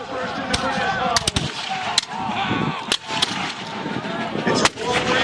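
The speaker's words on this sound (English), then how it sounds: "that's a pretty intimidating amount of gunfire" Musket volleys and cannon blasts at a 250th-anniversary Battle of Bunker Hill reenactment in Gloucester, Massachusetts: loud, sharp reports crack out irregularly over a continuous rumble of distant firing and crowd noise.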